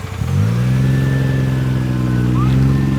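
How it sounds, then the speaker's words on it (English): An RB26 GT-R engine swapped into a Nissan Silvia S15, breathing through a wide GReddy Trust Extreme PE-TR exhaust, rises to a loud, steady, deep drone within the first half second and holds it close-up for the rest. "All right, Peter, let's see how the GTR sounds now."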